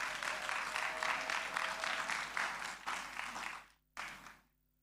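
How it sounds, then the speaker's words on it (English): An audience at a graduation ceremony applauds with dense, lively clapping that fades away, surges briefly once more, then stops into near silence. "Another round of applause, another round of applause"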